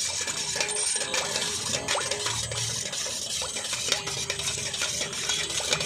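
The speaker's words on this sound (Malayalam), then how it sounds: "അപ്പോൾ നമ്മൾ മുട്ടയും പാലും എണ്ണയും എല്ലാം കൂടെ ഒന്ന് മിക്സ് ചെയ്യുകയാണ്" A whisk beats egg, milk and sunflower oil together for a corn flour cake batter, making rapid, repeated metallic clinks against the bowl with a wet sloshing underneath. No one speaks.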